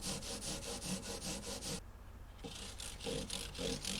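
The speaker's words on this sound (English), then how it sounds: "do maroon Scotch Brite over the wood and the" Maroon Scotch-Brite pad rubbed over the wood and frets of a 1956 Gibson ES-125 guitar, quiet rhythmic back-and-forth scrubbing strokes up close, with a short pause midway.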